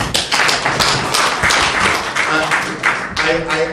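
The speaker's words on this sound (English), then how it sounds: "Can we clap for her?" Crowd applause for the chairperson at a football association launch event, a thick wash of many hands clapping loudly and continuously, with a voice breaking through near the end.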